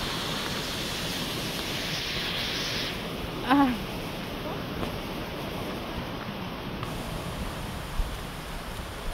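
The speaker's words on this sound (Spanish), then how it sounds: "Ahí está el río." Steady broadband rush of a river flowing nearby, a continuous wash of water with a brief man's exclamation over it.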